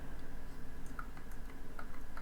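A handful of faint, soft clicks from the silent button of a Logitech Pebble M350 wireless mouse at an uneven pace over low background hum.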